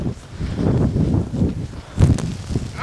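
A gust of wind rushes through a blizzard, a loud, continuous blustery roar with rough microphone buffeting that swells and surges again near the end.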